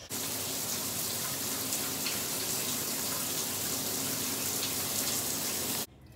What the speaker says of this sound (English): Okay, we're going to shower.